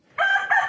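A hen with her chicks being fed grain in the morning gives a short, loud, close-up fowl call lasting under a second, with no talking.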